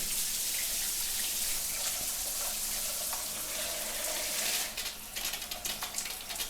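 Water sprays steadily in a soft hiss, then breaks into a spattering patter near the end.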